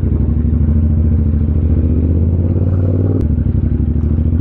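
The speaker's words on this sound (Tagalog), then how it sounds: "Ang ingay ng bike." A Yamaha MT-07 motorcycle engine accelerating in second gear, a loud, close, continuous throaty roar with a brief mechanical clack partway through and no talk.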